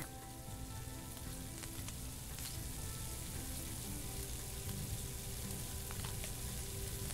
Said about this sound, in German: Backe die Pizza.